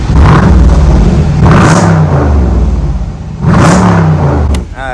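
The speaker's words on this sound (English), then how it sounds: "You could get in and rev it real quick." Loud, close revs from an SRT Jeep engine with a new exhaust, three deep rising roars that each fall back to a rumbling idle between them, no talk.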